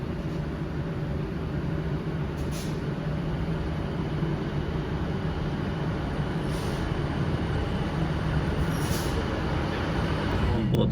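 Class 156 diesel unit 156408 sitting in the bay platform at Stockport before departing for Stalybridge, a steady low engine idle rumble heard from on board, with a few faint high squeaks over it.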